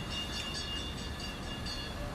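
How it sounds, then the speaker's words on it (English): Small toy tourist train rolling past on the Great Yarmouth seafront, a steady continuous rumble and clatter with faint high squeaks, close by and sustained throughout. "That's the sound of a tiny little train"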